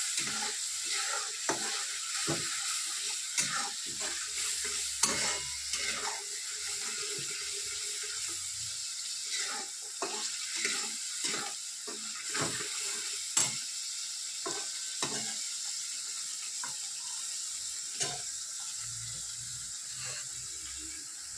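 Turmeric, dry chilli, Kashmiri chilli and black pepper powders fry in oil for a paneer vegetable curry, giving a continuous soft hiss with scattered scraping clicks from stirring.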